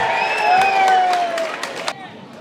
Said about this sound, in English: Listen to that, the crowd go wild!